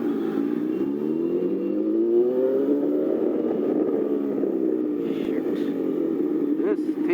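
A super rare motorcycle with traction control and riding modes hums steadily as it is ridden on the road in Pune, its engine note rising and falling smoothly throughout, close and continuous.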